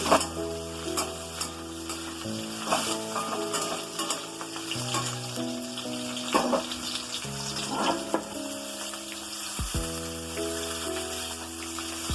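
Potatoes for a green beans and potato curry fry in a pan with a continuous close sizzle, broken by repeated scraping and stirring strokes of a spatula against the pan. No voices are heard.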